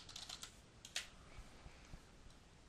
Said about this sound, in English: left click again at the beginning and type in Jenny Haskins.